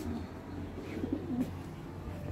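Racing pigeons coo softly and repeatedly while returning to the loft from a race at Sidi Bennour, low murmuring calls over a faint steady background.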